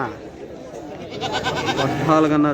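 A goat bleats close by in a wavering, nasal cry, rising near the end, with voices talking underneath at a weekly sheep and goat market.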